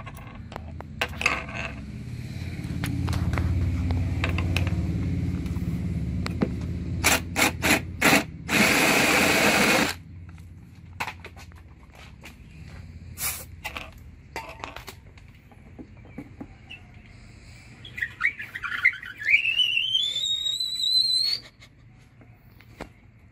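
Scattered mechanical clicks and scraping give way to a brief high squeal from a squeaky telescope mount that rises and wavers as it turns, with a loud rushing burst earlier.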